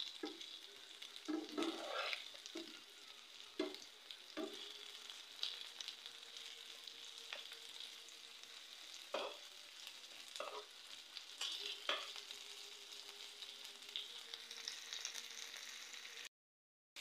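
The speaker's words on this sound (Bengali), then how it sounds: "আমি মাছ ভাজতেছি" Bhata fish fries in hot oil in a pan with a constant quiet sizzle and crackle, punctuated by occasional clinks and stirring scrapes, with no talk.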